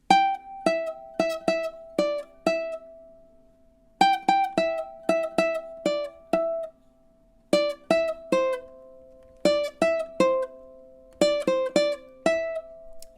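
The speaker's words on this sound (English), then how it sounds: "I'm going to play it without legato. I'm going to use kind of the opposite of legato, which we call staccato, which means very short" Ukulele playing a melody staccato, each note plucked short and clipped off, in quick groups of bright notes separated by brief gaps, close and clear with no talking.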